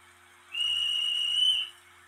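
A whistle in a Roblox TTC streetcar game gives one steady, clear, shrill blast lasting just over a second, heard alone over a faint background hum.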